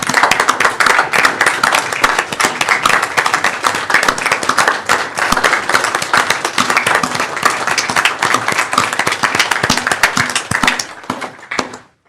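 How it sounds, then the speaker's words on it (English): Standing applause at a public hearing for Mr. Clark's retirement, loud close clapping from a room of people with distinct individual claps, sustained before tapering off at the end. "a warm round of applause"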